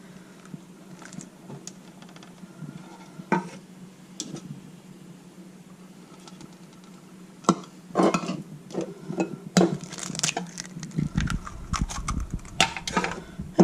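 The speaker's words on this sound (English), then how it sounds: "So let's just mix this up real quick like." Cake batter being stirred together with pineapple juice in a bowl, giving soft scraping and clinking utensil taps that start sparse and quiet, then turn busier and louder toward the end.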